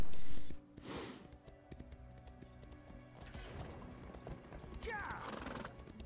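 A horse in the Elder Scrolls Online video game whinnies loudly up close, then its hooves clip-clop steadily along, with a second neigh near the end over a busy game soundscape.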